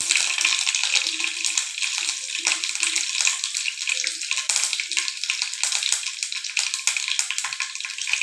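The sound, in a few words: mustard seeds spluttering in hot oil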